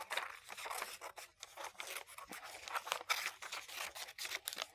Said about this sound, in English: Now I'm going to cut off an even smaller section because I'm going to be using this whole bit of paper.